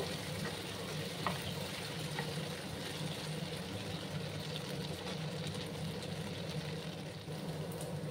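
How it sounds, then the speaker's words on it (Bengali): Taro root frying in a pan makes a constant, even sizzle and hiss that holds without a break for several seconds, close and moderately quiet, with no voices. "একটু সময় নিয়ে আমি ভেজে নিচ্ছি"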